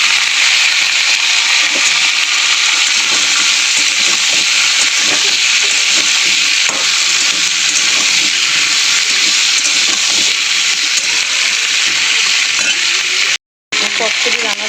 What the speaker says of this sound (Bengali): চচ্চড়ির আনাজগুলো একটু ভাজা হয়ে গেছে